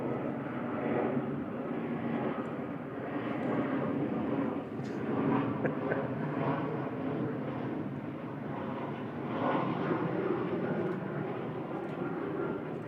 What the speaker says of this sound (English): EasyJet 4645 from Paris Charles de Gaulle. This is OEI an A320 Classic coming